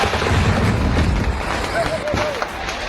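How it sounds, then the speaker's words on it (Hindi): A heavy boom of a fireworks explosion at a celebration rolls out amid crowd noise and shouting, loud and close, followed by rumbling and scattered cries. "फिर एक जोरदार धमाका"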